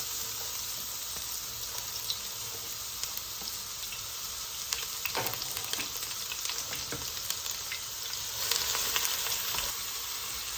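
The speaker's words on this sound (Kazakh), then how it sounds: "Майымыз қызғаннан кейін жаңағы майдалап тураған жуамызды саламыз" Chopped onions sizzle in hot oil in a home kitchen, a steady close crackling hiss with a few louder pops and a brief swell near the end.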